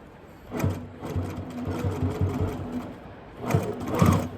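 Sewing machine back stitching a fabric Baby Yoda mask: short bursts of close, rapid needle chatter with brief pauses between runs.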